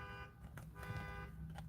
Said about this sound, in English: did this start happening with the car alarm.